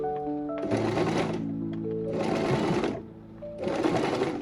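A sewing machine double stitching a wig runs in three bursts of rapid, rhythmic needle clatter, each lasting a second or so with brief pauses between, close and clear.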